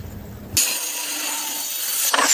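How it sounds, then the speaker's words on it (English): A power saw cuts through solid wooden beams for an upper-floor frame at a forest log cabin build. One loud, steady, high whine runs for about a second and a half, then ends sharply with a short burst. "Solid wooden beams are being precisely cut and installed as the foundation for the upper floor."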